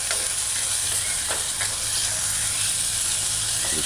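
Chicken and broccoli stir-fry is stirred in a saucepan, giving a steady close sizzle and hiss with a few soft utensil scrapes.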